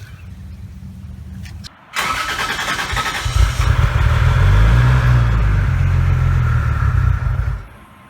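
A Toyota 2JZ engine swapped into a Nissan 300ZX fires up for its first start of the year after sitting, dosed with Marvel Mystery Oil. It catches after a short crank and settles into a loud, steady, rumbling idle before cutting off.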